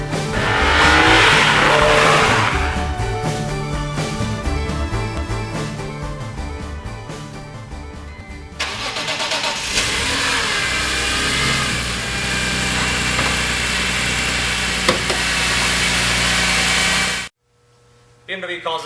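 A BMW Z4 M Roadster engine runs loud and close, revving and driving with a busy, rising roar that drops to a steadier drone midway before cutting off abruptly near the end.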